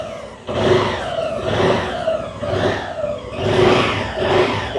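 A Lambretta G350 scooter with a 330cc engine runs with a low, steady grunt, swelling and easing in repeated surges as if lightly revved, heard up close with no talking.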